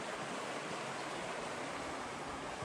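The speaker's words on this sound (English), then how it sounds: "You can hear the creek running right beneath it." A creek rushes beneath a rock bluff, giving a steady, broadband hiss of flowing water that stays constant and unbroken with no voices over it.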